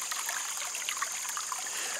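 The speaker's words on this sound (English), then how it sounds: "The water flowing." Water trickles and flows in a garden water feature, a soft steady splashing stream heard alone and fairly near, quiet and unbroken.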